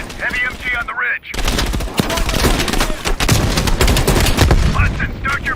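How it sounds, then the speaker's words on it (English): A heavy machine gun fires from a ridge in the Call of Duty Black Ops Cold War campaign, with loud, dense, continuous bursts of gunfire and booming impacts filling the scene. "Heavy MG on the ridge."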